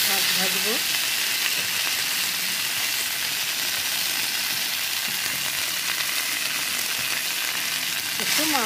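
Cooked rice frying in a pan for Arandhan cooking, a loud continuous sizzle with faint stirring scrapes throughout and a brief voice-like sound near the start and end.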